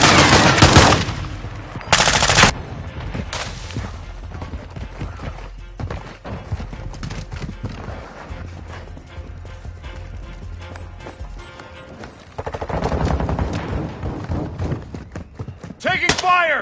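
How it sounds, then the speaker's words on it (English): Bursts of rapid gunfire crackle through a shooter video game, loud machine-gun volleys at the start and again near the end, with sparser shots and thuds in between. "Taking fire!"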